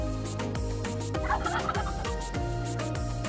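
Pet turkeys, including Royal Palm birds, gobble in loud repeated rattling bursts close by, several calls overlapping across a few seconds, with no one talking.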